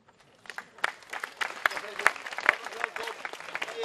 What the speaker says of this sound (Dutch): uw applaus voor professor Dolf Uiterbroeke